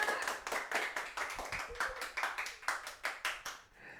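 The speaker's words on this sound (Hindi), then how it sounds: "तालियां इतनी बजाई जैसे 700-800 बच्चे बैठे हो" Students in a classroom clap together in a brisk, uneven burst of handclaps, close and fairly loud, with a slight voice at the end as it fades out.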